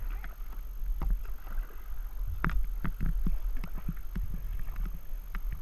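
Kayak paddling on gentle river current: paddle strokes splash and dip in an irregular rhythm over a low wash of water and light wind, close by, with no talking.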